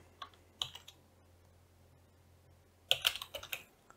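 Code being typed on a computer keyboard for a multiple DS18B20 temperature sensor project, a short early burst of keystrokes then a quicker cluster of crisp, close clicks near the end, with no talking.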